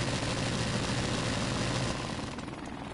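Video game helicopter droning steadily, a dense, loud whirring rotor and engine noise that fills the whole stretch with no pause and eases slightly near the end.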